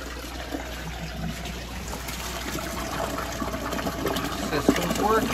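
Water trickles and splashes steadily as it fills a clownfish rearing rack system, a soft continuous flow with a faint pump-like hum beneath, growing slightly louder toward the end, with occasional voices nearby.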